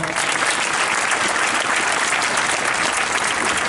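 Loud, steady applause from the audience at a school NCC foundation day celebration, dense clapping that runs unbroken for several seconds with no talk over it.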